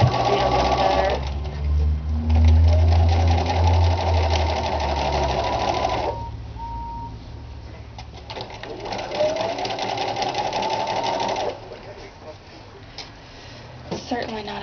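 Serger running a rolled hem on fabric for a head covering: loud bursts of fast mechanical whirring, several seconds each, separated by short pauses, while a person talks over and between the runs.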